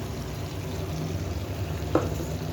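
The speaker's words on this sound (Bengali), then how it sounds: "এইটাকে এবার ভালো করে মিশিয়ে দেবো" Yogurt and cashew paste masala frying and being stirred in a pan for chital fish curry, a soft steady sizzle close by with one brief scrape of the spoon, no talking.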